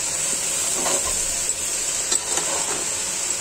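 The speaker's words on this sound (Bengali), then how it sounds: "আবার নেড়ে দিব ভালো করে।" A spoon stirs pumpkin and mixed vegetables in a cooking pot over steady sizzling, with a few soft scraping strokes close by and no talking.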